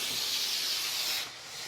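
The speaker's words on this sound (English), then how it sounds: "we're just gonna do our venting process" A pressure cooker vents steam in a loud, steady hiss with faint spitting while a Greek pasta salad is made, the hiss dipping briefly near the end before picking up again.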